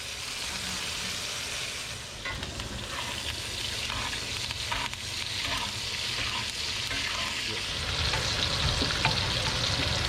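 Mushrooms sizzle loudly in a hot frying pan, a dense, steady hiss of frying dotted with small crackling pops throughout.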